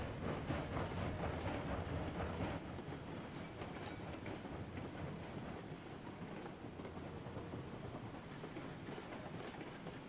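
A Cordwood bullet locomotive in the game Railroads Online runs steadily along the track with a dense, continuous rumble and clickety-clack, loud and close, and wind noise over it, without any voices.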